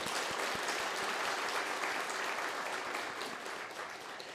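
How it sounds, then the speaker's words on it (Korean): A congregation at a dawn service of a New Jersey Presbyterian church gives a welcoming round of applause for visiting missionaries, a full, continuous clapping that tapers off slightly toward the end. "먼 걸음 오신 선교사님들께 잘 오셨다고 환영의 박수 한번 주시기 바랍니다"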